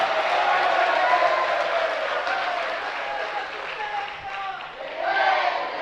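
A seated audience at a Jain religious sermon applauds with dense, steady clapping that swells, dips slightly midway and rises again near the end.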